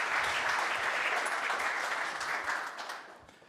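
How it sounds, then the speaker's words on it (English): Audience applause for the PROFIBUS & PROFINET International chairman at a robotics get-together opening, a dense steady wash of many hands clapping that tapers off toward the end. "Big round of applause for you, Xaver."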